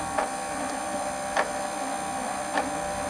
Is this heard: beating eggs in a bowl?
no